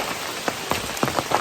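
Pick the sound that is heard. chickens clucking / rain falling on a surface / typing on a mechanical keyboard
rain falling on a surface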